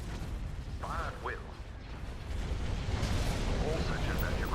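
Starship laser cannons and batteries open fire during a Star Wars: Thrawn's Revenge fleet battle. A dense, continuous booming barrage grows heavier midway, with radio-style voices breaking in over it.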